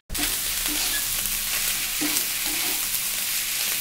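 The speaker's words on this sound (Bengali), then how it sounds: "দেখো সেই মাছ অল্প অল্প করে ভাজা হচ্ছে" Small amudi fish fry in a little oil in a pan, giving a steady, close, broadband sizzle that holds evenly throughout with faint occasional pops.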